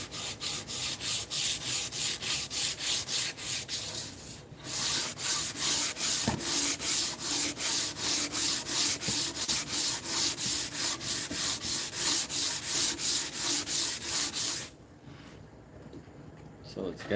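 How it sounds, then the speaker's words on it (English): Hand sanding of a carved wooden cane with sandpaper, steady rhythmic back-and-forth rubbing strokes close up, pausing briefly once and stopping near the end, with occasional quiet talk underneath. "I'm sorry this is so tedious and monotonous, the sanding part"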